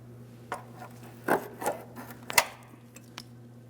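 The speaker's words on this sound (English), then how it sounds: "Typically, I like to try to start moving it with a pry bar, and then you should be able to grab onto it with some pliers to fully remove it." Metal brake hose retaining clip on a 2003-2008 Toyota Matrix worked loose with a pry bar and pliers: a few short scraping and clicking bursts of metal on metal, close and fairly faint, over a steady low hum.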